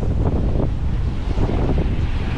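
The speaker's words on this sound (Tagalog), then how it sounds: "Grabe yung alon oh" Strong sea waves rolling in under gusty wind, a continuous heavy low roar with surging swells and wind buffeting the microphone, no voices.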